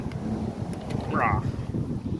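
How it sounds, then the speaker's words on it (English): Gusty wind buffets the microphone with a low, rough rumble throughout, with a faint whistle briefly rising in the middle. "It is pretty darn windy out"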